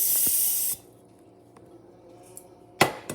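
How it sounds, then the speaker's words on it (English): Cooking oil spray hisses from an aerosol can into a pan for about three-quarters of a second, close and loud, then stops; a few faint handling clicks and a sharp clatter follow in a quiet kitchen. "And just spray it."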